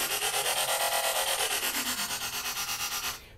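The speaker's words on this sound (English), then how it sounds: "It's kind of like the Transformers, like sweet Kai Wachi sound." A Kai Wachi style dubstep bass synth plays alone as a loud, buzzy growl that wobbles in fast, even pulses for about three seconds, then cuts off sharply.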